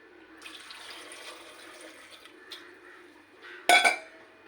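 Water pours and splashes from a cooking pot into a sink while making sambar without dal, a steady wash building to a sharp clatter of metal at the end.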